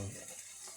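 Brief, faint sizzle of food frying in beef tallow, a soft hiss with a stir at the start, heard alone.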